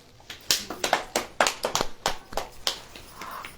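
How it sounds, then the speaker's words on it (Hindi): Audience applause in a church gathering: a burst of sharp, uneven hand claps, fairly close and moderately loud, peaking early and thinning toward the end, with no voices over it. "ताली बजाएं।"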